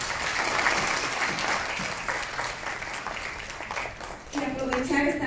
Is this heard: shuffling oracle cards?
no